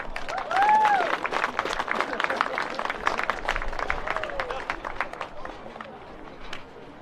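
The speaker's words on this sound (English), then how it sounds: "Once again, a round of applause for Angela from Canterbury Rugby League." Crowd applause at a school rugby league tournament awards ceremony, steady clapping from a sizable outdoor gathering with murmuring chatter and a few whoops mixed in, continuing for several seconds.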